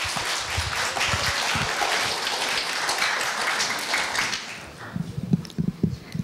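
Audience applause for a student contestant at a middle school speech contest, a dense steady clapping that fills the hall, then fades into scattered louder claps near the end.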